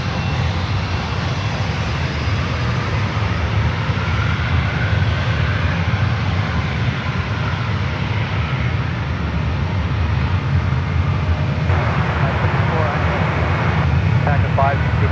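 Airliner jet engines roar steadily at San Francisco airport, a loud, continuous broadband rumble that changes slightly in tone toward the end, with voices faintly present.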